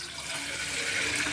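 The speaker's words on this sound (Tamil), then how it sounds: "நான் அதுக்கு இந்த மாதிரி பாத்திரத்தில் ஒரு பாத்திரம் தண்ணி அதில் ஊற்றிக்கிறேன்" Water poured from a vessel into a steaming pot for idli or kozhukattai puttu, a brief continuous splashing gush close by.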